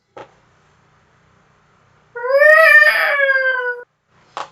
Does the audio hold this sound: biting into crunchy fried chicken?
no